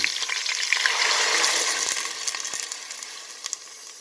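A steady, loud sizzle of water poured into a hot pot of browned lamb and potatoes, hissing broadly and fading slightly over a few seconds, with faint clicks and no talking.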